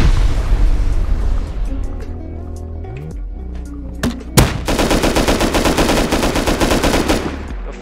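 Rapid automatic gunfire during a base raid in Rust rattles in dense, continuous bursts over a busy game soundscape, with a sharp loud crack midway before the shooting resumes steadily to the end.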